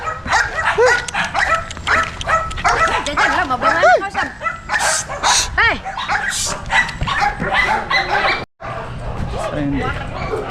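Dogs bark repeatedly, loud and close, in quick overlapping bursts with some whining yelps, while people talk nearby.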